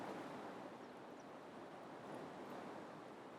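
Ganges river water risen up to the bank, lapping and washing in a steady, soft continuous rush with no voices.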